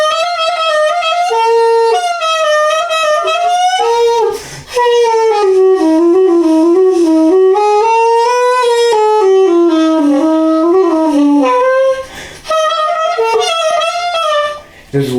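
Yamaha casual wind instrument, a non-transposing horn imitating a soprano saxophone, playing a reedy, continuous melody that rises and falls with brief breath pauses, loud and close, with no speech.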